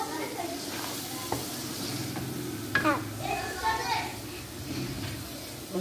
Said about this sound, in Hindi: और अब बनाए भुनी हुई दाल अच्छे से मिक्स करके